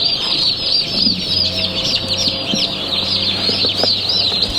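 Young white and bronze turkeys newly arrived in a pen under a heater keep up dense, continuous high-pitched peeping and chirping, close and loud, with low background rumble.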